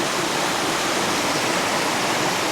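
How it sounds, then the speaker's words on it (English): A small waterfall on a farm creek pours with lots of water, a steady loud broadband rush that stays constant and close with no other sounds. "you see a little waterfall right here. Lots of water flowing today."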